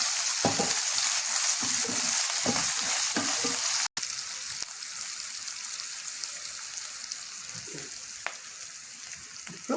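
Mixed vegetables fry with ginger garlic paste in a pan for a Telangana-style pulusu, giving a steady, close sizzle broken by occasional clinks and scrapes of stirring.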